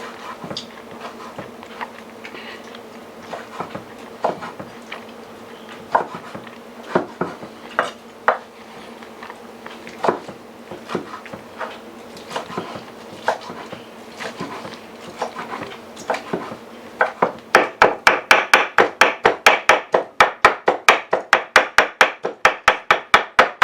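A knife chops fried steak into chunks on a cutting board: scattered sharp taps at first, then a fast, steady run of loud close chops, with a faint hum underneath.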